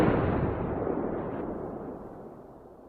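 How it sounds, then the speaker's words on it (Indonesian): A single gunshot in the Thai horror film Inhuman Kiss (2019) strikes with a sharp onset and then a long fading rumble of about three seconds, loud and without other sounds. "Naasnya, kepala Sai terkena tembakan dari warga."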